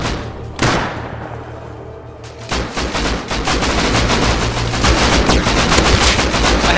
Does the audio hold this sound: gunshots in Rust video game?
yes